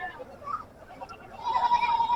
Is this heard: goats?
yes